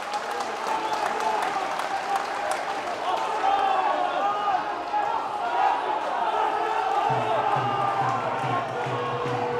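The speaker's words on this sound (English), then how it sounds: "Listen to the roar of the home crowd." Home crowd at a Widnes Vikings rugby league match against Oldham keeps up a loud, sustained roar and clapping throughout, with a commentator talking over it.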